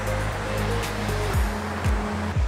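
Knyvet Falls near Cradle Mountain, Tasmania, swollen with rain and snowmelt, rushes in a steady broadband roar, with low rumbling tones from wind or the handheld microphone beneath it.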